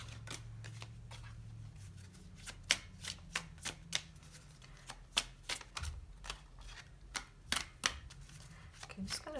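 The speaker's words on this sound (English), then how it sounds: "I'm just gonna do one more shuffle and then I'm gonna take this one." A deck of tarot cards being shuffled by hand, giving a run of crisp, irregular riffles and snaps close to the microphone over a low hum, with faint speech in the background.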